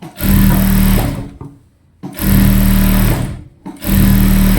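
An electric sewing machine stitches old saree fabric in three loud, close runs of fast, even whirring, each stopping briefly before starting again.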